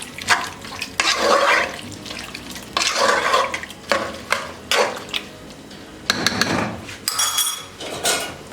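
A spoon stirs bhuna gosht mutton in a metal pot, making repeated rhythmic scraping and clattering strokes with a soft wet sizzle, loud and close, with no talking.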